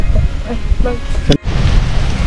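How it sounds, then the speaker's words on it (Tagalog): Heavy rain falls outside in front of a house, a dense close roar of downpour with a brief sharp thump partway through, and faint voices underneath. "Ang lakas po ng ulan, inabot kami ng ulan dito sa harap ng bahay niya."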